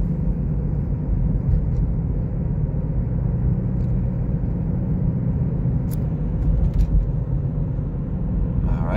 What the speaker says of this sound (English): that's the wop wop wop wop wop wop wop wop in the drivetrain, like a truck